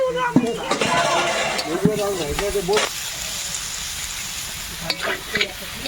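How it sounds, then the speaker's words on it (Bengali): Fried potatoes going into sizzling spices in a large pan for a big batch of cooking, with clattering and stirring over a steady sizzle and a voice talking during the first half. "ভাজা আলুটা দেবো"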